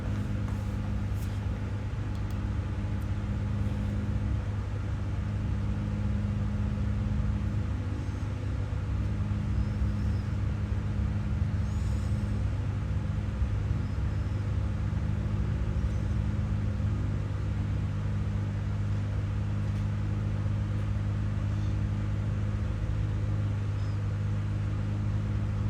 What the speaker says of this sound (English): Rolling nicely at 1000 RPMs already, so time to line up on the runway.